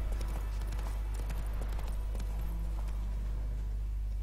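A horse's hooves clip-clop at a steady, continuous pace in The Witcher 3, close and even over a constant low rumble of ambience.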